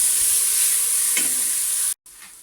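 Food sizzling loudly in a hot pan for a mushroom tart filling, a continuous close hiss with a brief scrape of stirring before the sound cuts off abruptly.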